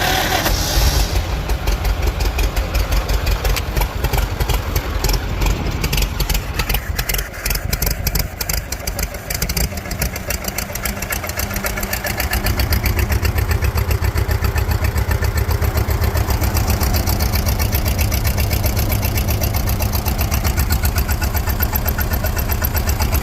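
A Farmall H tractor with a seized valve and an oil leak cranks with uneven sputtering before its engine catches, then settles into a loud, steady, knocking idle close by.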